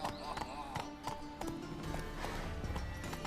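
Horse hooves galloping in The Witcher 3, a steady rhythmic clip-clop of a running horse heard close and moderately loud alongside music and game ambience.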